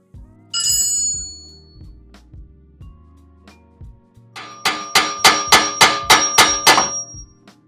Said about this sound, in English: Tap the lower control arm with a hammer, just like we previously did.